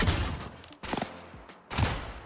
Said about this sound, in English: Now let's shoot him in the chest.